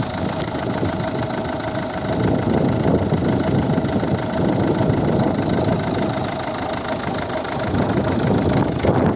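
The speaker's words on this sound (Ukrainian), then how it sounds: "Це робота двигуна." A 2010 Volvo V50 1.6 diesel engine idles close by, a loud even rumble with a slight rhythmic clatter that swells and eases a little.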